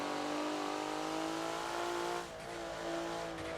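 A Forza race car on the Hockenheimring National circuit holds a steady, droning engine note under throttle, then the pitch drops as it shifts or lifts off, with the engine continuing quietly afterward.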